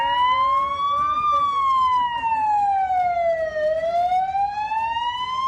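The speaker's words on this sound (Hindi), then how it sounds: "पुलिस की गाड़ियां सायरन बजाती हुई मोहल्लों में पहुंची" A loud wailing police siren rising and falling slowly, continuous throughout, close by with a faint background murmur.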